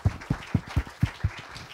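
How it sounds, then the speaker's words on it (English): An audience applauding a panel after an academic discussion on the challenges of AI, heard as a handful of distinct, evenly spaced claps, fairly close and moderately loud, with no voices over them. "please give them a round of applause"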